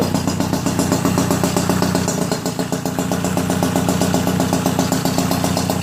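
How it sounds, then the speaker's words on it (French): A small Peugeot 70cc moped engine, an Airsal-kitted two-stroke, runs steadily at idle, close and loud, with an even buzzing putter that holds throughout without speech. "Il est pas beau ce petit moteur."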